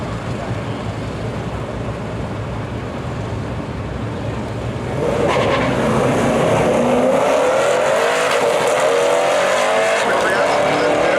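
A Corvette and a 1968 Chevelle launch in a drag race, engines swelling from a steady rumble into a loud, sustained roar under a nearby announcer's voice.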